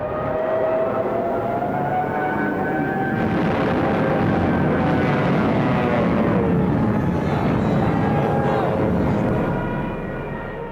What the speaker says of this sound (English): with Stuka dive bombers blitzing just ahead of them